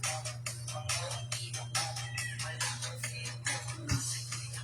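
A phone repeatedly chimes with notification alerts during a live-streamed thrift shop clothing sale. The bright tones arrive in a steady run of short bursts over a constant low electrical hum.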